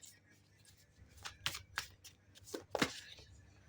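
Tarot cards being shuffled and cut: soft riffling with a few sharp card snaps, close, under a faint voice talking.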